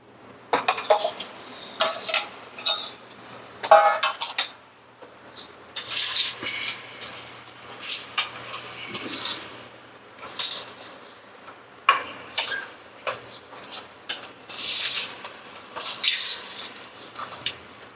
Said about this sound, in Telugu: దీంట్లో దీంట్లో చికెన్ వేసేసుకుందాం